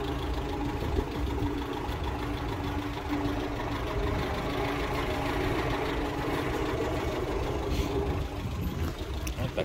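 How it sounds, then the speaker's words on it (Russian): A GAZ-21 Volga car engine idles with a steady, low rumble that holds for the whole stretch, fairly close, with no voices over it. "Двигатель работает."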